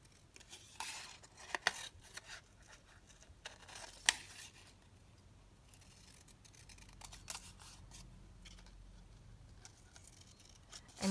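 Scissors snip through fussy-cut fabric pieces printed with flowers and beach huts for a crafting kit project: a few faint, sharp snips and rustles over a quiet room, with no voices.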